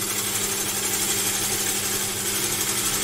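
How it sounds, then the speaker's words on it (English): A wood lathe spins steadily while a gouge turns African blackwood, producing a constant whirring hum with a faint scraping hiss from the cut, continuous and close. "start twisting away from the lathe, roll the gouge just slowly anti-clockwise."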